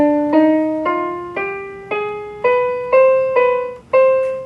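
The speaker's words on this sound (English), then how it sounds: "Harmonic minor is a scale that sounds like this." A harmonic minor scale climbs note by note in about eight clear, evenly spaced sustained tones, including the raised seventh near the top, played alone with no talking.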